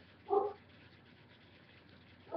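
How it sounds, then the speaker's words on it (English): A single dog bark near the start and another at the end, moderately loud against a quiet background with no talking. "He likes to bark at anything that's around outside or inside."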